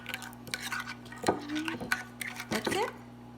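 Ingredients for baked salmon with parmesan cheese being mixed in a bowl, with a few clinks and scrapes of a utensil against the bowl and a steady hum underneath. A voice speaks faintly in the background.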